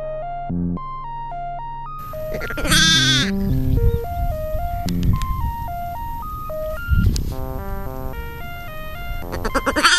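Sheep bleat loudly in a few separate calls over a stepping, beeping electronic melody that plays throughout.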